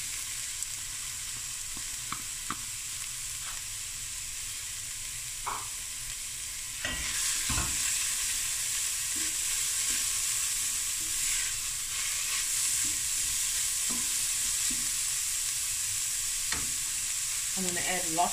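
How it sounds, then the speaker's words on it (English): Vegetables sweat gently in a soup pot for broccoli cheddar soup, with a soft steady sizzle and occasional stirring scrapes and clinks, fairly quiet and without talk. "just sweat this down for a little bit"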